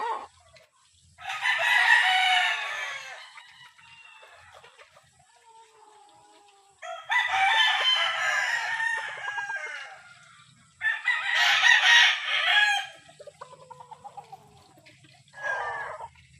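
White Kelso gamecock roosters crowing, three long loud crows spaced a few seconds apart and a fourth shorter one at the end, with quiet clucking between.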